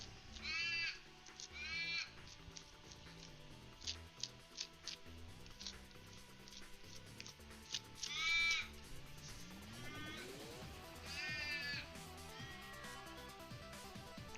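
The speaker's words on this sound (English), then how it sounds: "I don't know if that's coming through or not, but the crows say hi" Crows cawing loudly outdoors in several harsh bursts, spread across the stretch over steady background music.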